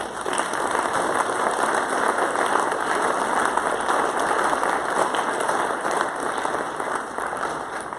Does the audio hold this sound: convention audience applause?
yes